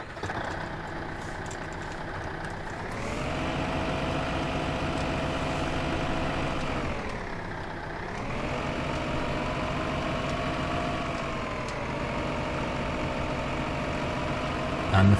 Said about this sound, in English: Here's the small tractor.